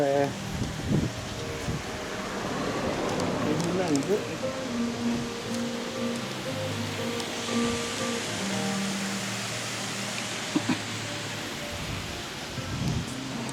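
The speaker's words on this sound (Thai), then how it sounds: "โอ้วันนี้ฝนตกแล้ว ฝนตกเฉยเลย" Rain falls during a school field trip in Phayao, Thailand, as a steady, broad hiss throughout, with people talking and faint tonal sounds in the background.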